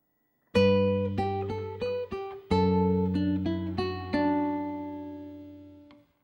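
Two measures of Minuet in G on classical-style guitar: a quick, flowing line of about a dozen plucked notes over sustained bass, near and clear with no talking, slowing into a final note that fades away.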